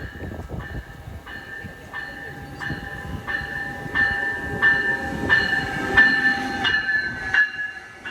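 A train rumbles by at the Via Rail station in Kingston, Ontario, with a repeating two-tone electronic chime or bell sounding steadily at regular intervals over the low rolling noise.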